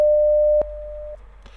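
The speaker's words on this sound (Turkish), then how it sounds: "600 Hz'e tıklıyorum." A 600 Hz sine tone played through a PC speaker by a VB.NET program, a loud, steady electronic beep of about half a second that drops to a softer hum, ends, and is followed by faint room noise.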